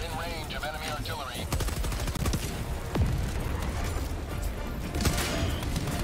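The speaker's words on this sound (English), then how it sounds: "I'm hitting all these robots with these lasers." Weapon fire against robots in Helldivers 2, dense continuous shooting and impacts mixed with game effects, with a voice talking over the din.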